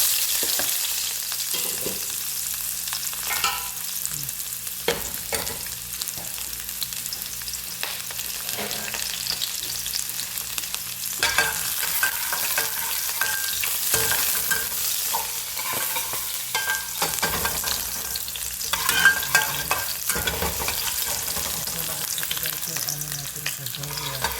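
Onions sautéing in a pan give a steady, loud sizzle throughout, broken by frequent clicks and scrapes of stirring and no talk.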